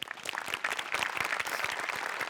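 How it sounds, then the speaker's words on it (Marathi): An audience claps for performers on a Marathi comedy sketch show, a lively spatter of individual claps at moderate level, steady and continuous with no talking over it. "ऋषिकांत राऊतची संकल्पना आणि अभिजित पवारचं लिखाण दोघांसाठीही टाळ्या"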